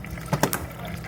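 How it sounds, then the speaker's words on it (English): Water splashes into a cup in short bursts, a brief close pour with light splashes and a low steady room background. "I'm actually putting water in the water cup"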